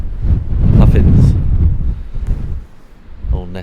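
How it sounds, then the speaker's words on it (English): Wind gusts across the Shetland coast, roaring loudly into the microphone with rough, swelling rumbles that ease off and return. "And it's cold and it's windy."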